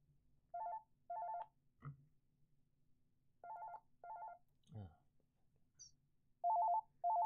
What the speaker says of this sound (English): Sorry about this. It's house phone.